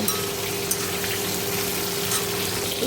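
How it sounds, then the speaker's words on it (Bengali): A steady sizzle of pointed gourd frying in hot oil, constant and close, with a faint hum underneath and no voices. "এখানে দেখো পটল ভাজা করছি, ওই যে আলুটাও ভাজবো"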